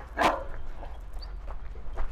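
One loud, close bark from a dominant, strong dog, followed by fainter scattered yelps and outdoor noise.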